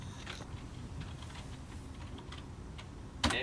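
Keyboard shortcuts being typed on a computer keyboard while operating the JAWS screen reader, a quick run of close, fairly soft key clicks ending in a louder press.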